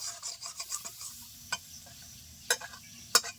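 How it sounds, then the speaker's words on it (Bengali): Banana flower being stirred and dry-fried in a pan gives faint scraping and rustling, with a few sharper clicks of the utensil against the metal, quiet and irregular with no talk. "আমি আরও 4-5 মিনিট এরকম ভাবে নেড়ে চেড়ে নেব আর মিডিয়াম আছে জাল করতে থাকবো"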